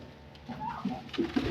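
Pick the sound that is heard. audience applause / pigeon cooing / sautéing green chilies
pigeon cooing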